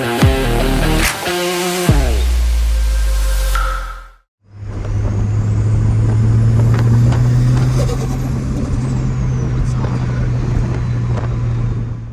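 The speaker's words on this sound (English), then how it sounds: "So we are driving the Mini and just gonna give a little feedback on the driving experience." A JCW Mini car driving, heard as a steady engine drone and road noise from inside the cabin, preceded by a few seconds of music.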